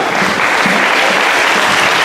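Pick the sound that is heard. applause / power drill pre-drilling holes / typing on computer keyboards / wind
applause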